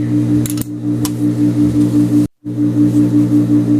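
Scissors snipping excess thread from a sewn blouse seam: a couple of quick, crisp snips near the start and another shortly after, over a loud steady hum that briefly cuts out.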